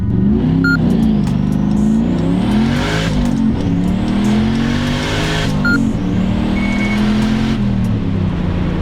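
A Volvo car launches hard from a standstill, its engine revving loud and close, pitch climbing and dropping through rapid gear changes across the run, with no voices.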